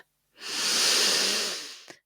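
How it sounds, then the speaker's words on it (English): A single deep breath drawn in and let out slowly, a long soft airy rush swelling and fading over about a second and a half, close and alone in an otherwise quiet room. "taking a few deep breaths, deep, deep, deep breaths,"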